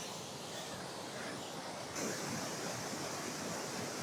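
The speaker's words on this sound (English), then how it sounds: "Look at that waterfall." Steady broadband rush of a powerful waterfall on a wet mountain hike in the Langdale Pikes, Lake District, continuous and close, swelling slightly louder about halfway through with no voices.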